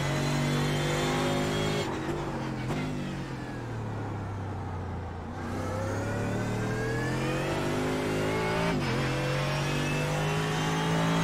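Mercedes AMG GT3 race car lapping Tsukuba Circuit in iRacing, its engine loud and close, revving hard through the gears with upshifts, a dip off throttle mid-clip, then climbing again, with no talking.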